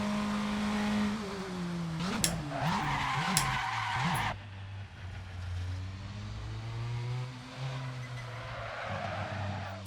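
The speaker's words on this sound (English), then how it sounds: "You're locking your front into the chicane." A Praga R1 race car in Assetto Corsa at Spa locks its front brakes into a chicane, giving a loud engine note that drops through downshifts with tire skid and squeal, then steady engine drone alone.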